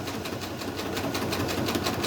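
A sewing machine works a decorative vine stitch through thick quilt layers, a faint, steady, rapid mechanical whirring with a fine rhythmic needle patter throughout.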